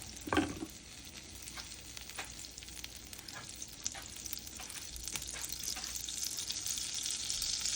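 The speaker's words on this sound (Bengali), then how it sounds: "আমি একটা কড়াই দিয়ে বসিয়ে দিয়েছি এবং এখানে দিয়ে দিলাম কিছু বাটার" Butter melting in a wok on the stove, giving a soft, steady sizzle with a clunk at the start and light scraping taps spread through it, close and fairly quiet, with no talking.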